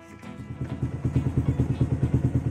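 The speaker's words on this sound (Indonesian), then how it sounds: "Sebagai gantinya, saya nyalakan saja dengan menggunakan kickstarter." A motorcycle engine is kick-started into life and settles into a steady, rhythmic idle putter, close and fairly loud.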